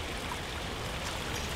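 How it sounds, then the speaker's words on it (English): Water poured into a pond planter at a garden nursery, a soft steady splashing trickle heard close and fairly quiet throughout. "And I'm just gonna throw some water in here."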